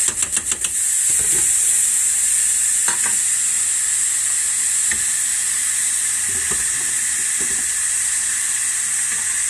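Pork, beef, celery, carrot, onion, bay leaf and garlic sizzle steadily in a pan, a loud continuous hiss with occasional stirring clatters and scrapes, and no voices.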